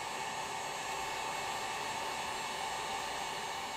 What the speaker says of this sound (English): So I use a heat gun